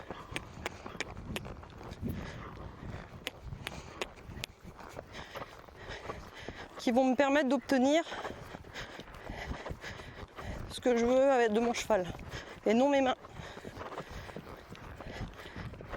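A horse trotting under a rider, a steady rhythmic clip-clop of hooves running through the whole stretch, moderately close, while someone talks over much of it in French.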